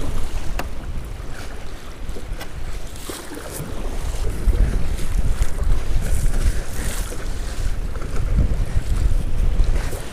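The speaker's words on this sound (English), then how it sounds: "Alright, that wind's insane. Probably 30-mile-an-hour gusts right now." Strong gusty wind of about 30 mph sweeps across open water during early spring bass fishing from a paddled boat, a loud, constant roar buffeting the microphone with waves slapping close by.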